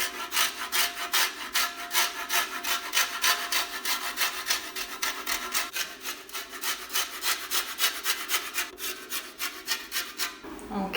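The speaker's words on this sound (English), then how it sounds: "I'm going to add a little bit of lime zest on top." Lime zest rasped over a chocolate courgette cake on a fine grater, a steady run of quick scraping strokes, close and fairly loud, with no talking.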